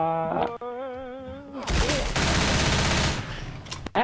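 Sustained gunfire in the Left 4 Dead video game: a loud, continuous rattle of rapid shots that follows a brief tonal sound and ends with a sharp final burst.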